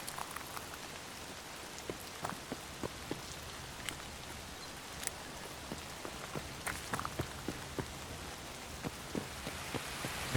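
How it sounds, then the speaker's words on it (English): Steady rain falling outdoors, a soft continuous hiss with frequent distinct drips and taps landing on nearby surfaces. "Let's go back outside and listen to the rain."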